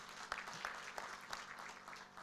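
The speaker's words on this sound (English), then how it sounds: "Please, another big hand clap." An audience claps by hand at a private sector CEO retreat in Uganda: fairly faint, scattered applause with a few sharper individual claps standing out.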